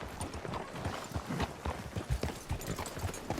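Hooves clip-clop steadily in Red Dead Redemption 2, a brisk rhythmic patter of hoofbeats on a hard surface, close and continuous with no voices.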